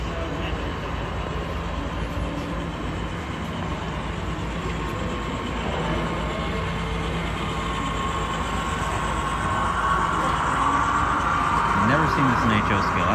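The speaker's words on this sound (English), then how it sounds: "we got a Boeing train in HO scale" A small HO scale Boeing model train rolls along its track at a model railroad hobby show with a steady whir and clatter, growing slightly louder toward the end, amid background chatter.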